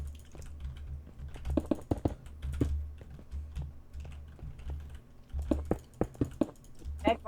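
Keys clatter on a computer keyboard in irregular bursts of fast tapping. A low background hum runs underneath, and voices from a Rust gaming session can be heard faintly.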